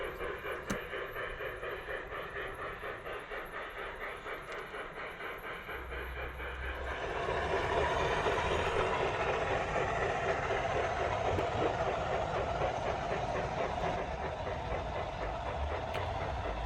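A model cattle train runs steadily along its track around a layout with a continuous rattling hum and hiss that grows a little louder midway, with no talking.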